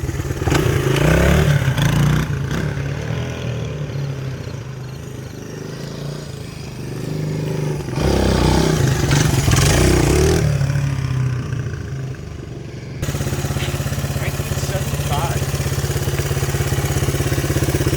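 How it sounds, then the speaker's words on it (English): A 1975 Honda XL125 four-stroke motorcycle engine running, a steady close thrumming idle that swells into brief revs a couple of times, with no speech over it. "this classic, stunning Honda XL125"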